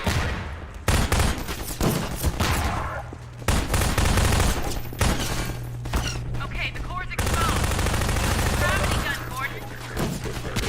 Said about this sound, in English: So let's go to the submachine gun.